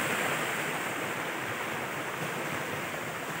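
A large waterfall in rural Quezon province roars steadily and evenly from start to finish as a dense wash of falling water, close and full, with no voices.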